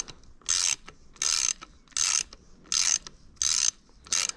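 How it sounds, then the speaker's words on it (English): A ratcheting tool loosens the axle nut on a Bafang e-bike hub motor, giving six evenly spaced bursts of rasping clicks, each about half a second long, close and loud with quiet gaps between strokes. "I can unscrew this axle nut like this"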